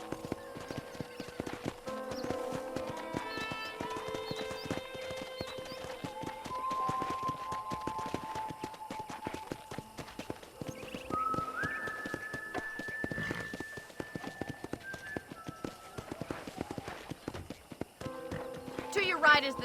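Horse hooves clip-clop steadily while riding in the video game Red Dead Redemption, an even trotting rhythm running throughout beneath tonal music, with a brief whinny.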